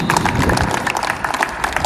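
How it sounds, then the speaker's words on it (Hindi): A crowd at a hunger strike protest gathering claps steadily and densely throughout, a continuous patter of many hands at moderate volume with no voices standing out. "हम सब लोग तालियां बजा करके उनका स्वागत करेंगे"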